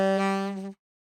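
A saxophone plays a single sustained note with a wah-wah effect, its tone bending and shifting for under a second before stopping abruptly, close and alone with no talking.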